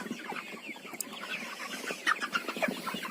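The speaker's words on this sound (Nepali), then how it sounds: "कुखुरा हेल्दी छ" Healthy farm chickens cluck in short, scattered bursts, fairly quiet and close, with no one talking.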